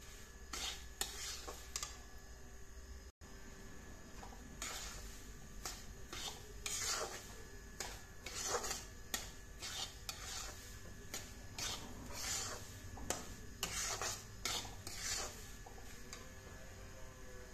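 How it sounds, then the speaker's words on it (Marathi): Semolina roasting in ghee over a low flame is stirred continuously, giving repeated soft scraping strokes against the pan at an even rhythm over a faint, steady background hum. "आता हा लो फ्लेमवर आपल्याला एकसारखा असा छानपैकी भाजून घ्यायचा आहे।"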